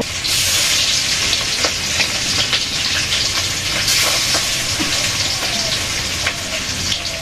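Fish frying in a pan makes a loud, continuous crackling sizzle with scattered sharp pops and a faint stirring clatter, close and steady throughout.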